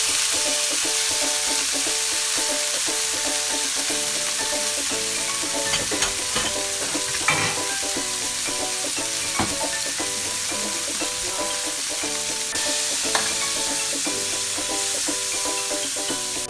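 Pork cubes frying in hot vegetable oil, a loud, steady sizzle that runs unbroken throughout, with occasional faint clinks of a utensil stirring in the pan.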